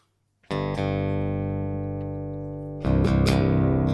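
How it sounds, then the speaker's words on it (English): An electric guitar played direct through a Boss GX-100 with a polyoctave effect, no amp; a chord rings out thick and sustained with an added octave layer, then a second harder chord is struck near the end. "I'm going to first off have a polyoctave on there"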